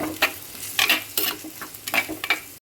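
Potatoes frying in a pan for Kerala theeyal, with a soft steady sizzle under repeated scraping stirs of a spoon, several quick strokes close up and no talking.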